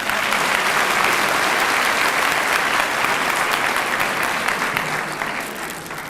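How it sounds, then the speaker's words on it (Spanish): A crowd applauds at a university Public Accountant's Day ceremony, loud dense clapping that holds steady for several seconds and then begins to fade slightly toward the end. "Fuerte aplauso, que nos lo merecemos en nuestro día."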